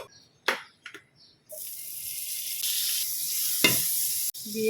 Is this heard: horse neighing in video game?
no